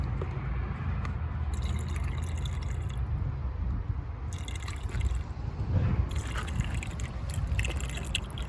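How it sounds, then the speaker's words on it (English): Water poured through a funnel into a battery on a Wanderlodge bus, a steady liquid trickle and gurgle that runs continuously at close range. "I'll hold the funnel up higher so that I can see what the water level is"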